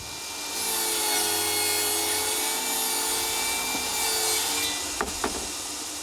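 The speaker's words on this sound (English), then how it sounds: "And I'll do that in 2 passes on the table saw." A table saw cuts a rabbet in a 2x4 for a wooden patio table, a steady loud whining cut running several seconds before the blade spins down with a couple of sharp knocks.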